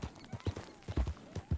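Horse hooves clip-clop in Red Dead Redemption 2, a white horse stepping in a steady, uneven rhythm of close, fairly loud thuds across the short stretch, with no talk over them.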